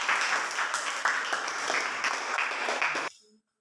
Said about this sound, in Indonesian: mari kita tepuk tangan untuk kesimpulan yang sudah kita buat